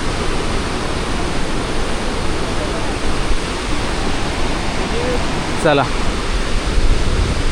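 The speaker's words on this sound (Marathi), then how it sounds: "धबधबा किती वेळ पाहिला ना तरी तो पाहतच बसावासा वाटतो." The Dhareshwar waterfall at Marleshwar roars in the monsoon rain, a loud, dense and unbroken rush of falling water that fills the whole clip, with a brief voice heard faintly within it.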